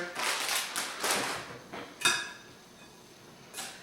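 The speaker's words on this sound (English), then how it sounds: "We're just going to mix that in." A spoon stirs a shredded cheese blend into chicken enchilada filling, giving a few close clinks and scrapes against the bowl, then a sharper knock and a last clatter.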